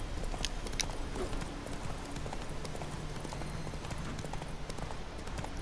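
Rapid hoofbeats of a galloping horse in The Witcher 3: Wild Hunt clatter steadily over a busy, noisy background.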